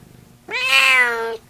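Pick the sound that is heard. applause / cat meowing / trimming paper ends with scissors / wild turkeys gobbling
cat meowing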